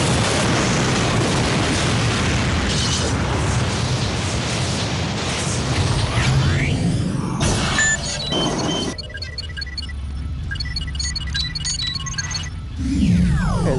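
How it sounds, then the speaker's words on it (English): A visual-effects explosion of Moscow blowing up, staged for Stargate SG-1, sounds as a loud, continuous rumbling roar with a heavy boom around the middle, then it thins to a quieter electronic texture before swelling again. "you have yourself a shot of Moscow blowing up on the economical"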